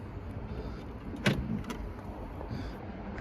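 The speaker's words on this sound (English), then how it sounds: "so unlock the car" A BMW E61 estate unlocks with its central locking, giving a short mechanical clunk partway through amid a quiet background, followed by a faint softer click.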